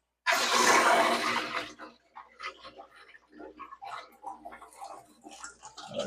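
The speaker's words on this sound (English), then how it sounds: "we will start dumping water into those overflows" Water gushes loudly into the overflow of a newly aquascaped 180 gallon aquarium, a dense splashing burst for a second and a half that then drops to softer trickling and dripping.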